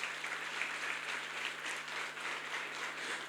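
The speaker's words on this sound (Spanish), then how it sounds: "Así que den un aplauso a la Patty, por favor." A church congregation applauds to honour a longtime connection-group leader. The clapping is soft and distant, a steady wash with no talk over it.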